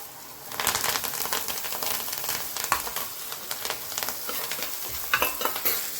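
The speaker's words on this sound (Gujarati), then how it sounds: "હવે આ ભીંડો તળાઈ જશે આવી રીતે સેજ લાલ થવા દેવાનો એટલે શાક ચીકણું ન થાય" Okra fried with masala in a pan for stuffed bhindi curry, sizzling steadily while a utensil stirs it with repeated scraping strokes; close and continuous, with no talking.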